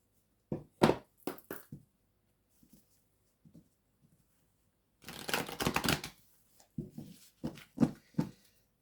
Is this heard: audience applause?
no